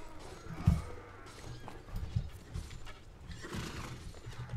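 Horse neighing in the medieval combat game Mount and Blade Warband, a short whinny near the start followed by scattered thuds and clatter of battle sounds, moderately loud with no talk.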